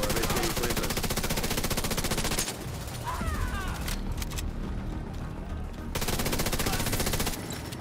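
Rapid bursts of automatic gunfire in Tom Clancy's The Division 2 crackle densely and continuously, briefly thinning to scattered shots before the heavy firing resumes, with game sound effects mixed in.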